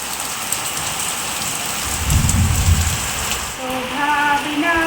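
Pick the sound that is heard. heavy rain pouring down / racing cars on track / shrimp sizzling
heavy rain pouring down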